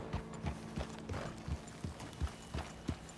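A horse's hooves clop at an even, rhythmic trot or gallop in the Red Dead Redemption 2 video game, about ten distinct thuds, moderately close over quiet game ambience.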